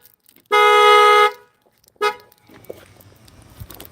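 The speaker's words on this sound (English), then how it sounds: "Press the lock button, yo." A car horn toots as the car is locked with the key fob: one loud, sustained honk, then a brief second toot, followed by faint background noise.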